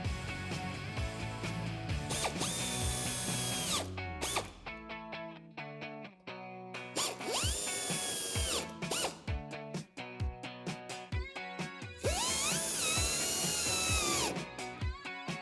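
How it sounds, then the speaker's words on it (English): A power driver with an 8mm socket runs fender flare screws into a 2019-2022 RAM 1500 pickup, in several short whirring bursts with sharp pauses between them, close and fairly loud. "now I've switched back to the 8mm socket to finish these last 3 screws"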